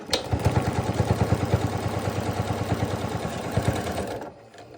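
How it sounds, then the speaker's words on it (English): Sewing machine running steadily to stitch a half-inch seam on a baby rag quilt, a fast even needle rhythm close by for about four seconds before stopping. "I'm going to put this in and I'm going to sew down 1/2 inch"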